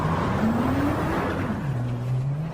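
A stock race car in Gran Turismo 7 leaving the track after weak brakes fail to slow it, the engine note droning and shifting pitch steadily over a rough broadband rumble, close and continuous.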